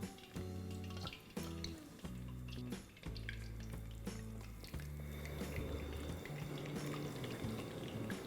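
Rava-dusted mushrooms drop into hot oil and fry with a soft, steady crackling sizzle that builds toward the end, faint beneath a repeating background melody.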